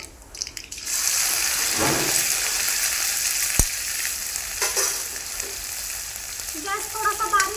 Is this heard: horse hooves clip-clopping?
no